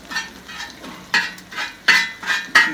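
Stirring Chinese-style pork on a sadj pan makes repeated scraping, clattering strokes of a utensil against metal. Several distinct bursts come in an uneven rhythm, close and moderately loud, with faint sizzling beneath and no voices.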